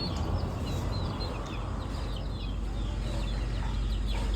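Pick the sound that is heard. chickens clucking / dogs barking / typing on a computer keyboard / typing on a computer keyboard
chickens clucking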